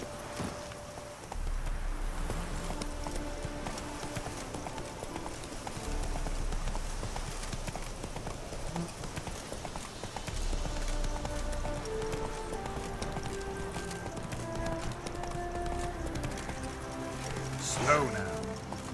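Roach the horse gallops in Witcher 3, rapid rhythmic hoofbeats clip-clopping steadily over a game soundscape with a faint whinny near the end, while a voice talks over it.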